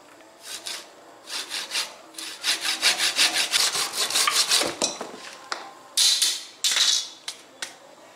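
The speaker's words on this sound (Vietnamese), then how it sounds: "Cưa vát cái rễ này đi được." A hand saw cutting a tree root rasps back and forth in a steady rhythm of strokes, then pauses and finishes with a few short, louder cuts.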